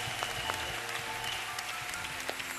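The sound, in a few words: applause at a wedding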